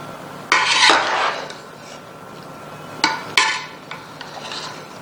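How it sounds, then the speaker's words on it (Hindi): A spoon scrapes and clanks inside a cooking pot while Karachi-style biryani rice is mixed after steaming, with a few loud metallic scrapes and knocks separated by quieter stirring, close and with no talk. "सबसे पहले हमने चावलों को मिक्स कर लेते हैं"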